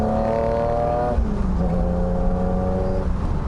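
BMW car engine held on light throttle through a corner, a steady smooth hum with a slight pitch drop midway, close and continuous with no talking.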